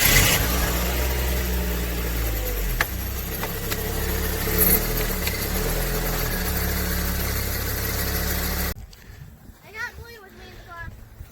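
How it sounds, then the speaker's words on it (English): A 2002 Volkswagen Jetta 1.8T four-cylinder engine idling up close, a steady low hum with a few small rev bumps, then cutting to a quieter scene with a voice talking. "This is the engine."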